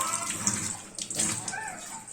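Water is poured into beef curry cooking in a pot on the stove, a short, fairly quiet splashing trickle that lasts about two seconds.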